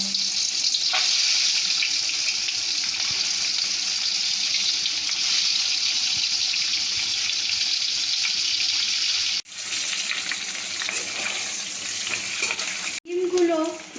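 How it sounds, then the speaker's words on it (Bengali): Eggs frying one at a time in a little hot oil in a wok for a dhaba-style egg masala: a steady, close sizzling hiss runs throughout, broken briefly by a short pause and a clatter near the end. "এক এক করে ডিমগুলোকে ভেজে নেব"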